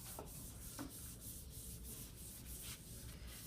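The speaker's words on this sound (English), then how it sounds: "I'm not rubbing very hard because I don't want to tear the paper apart." A sponge rubbed gently across wet paper, spreading drizzled water over the back of the sheet; a soft, steady, continuous scrubbing hiss, faint and close, with no talk.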